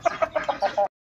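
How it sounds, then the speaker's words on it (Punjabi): An Aseel rooster gives a quick series of about six short, soft clucks in a steady rhythm, faint and close. "ਅਤੇ ਲਓ ਜੀ ਸਾਡਾ ਮੁਰਗਾ ਵੀ ਤੁਸੀਂ ਦੇਖ ਸਕਦੇ ਹੋ"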